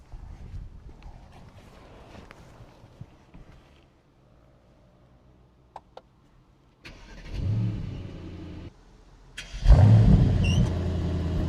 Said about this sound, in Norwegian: Da setter vi oss inn i dette beist av en bil og starter den opp.